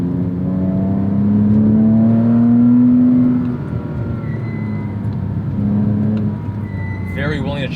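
A Porsche Cayman S 987 drives and accelerates, its engine note climbing steadily in pitch, dropping at a shift and rising again, with a brief voice near the end.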